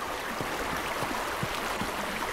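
River water flowing in the survival game A Township Tale, a steady broadband rushing wash with faint bubbling, continuous and even in level throughout.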